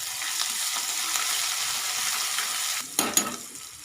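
Curry leaves and ginger-chili paste crackle in hot tempering oil for a spiced yogurt dish, a steady close hiss that ends with two sharp clatters of a utensil against the pan.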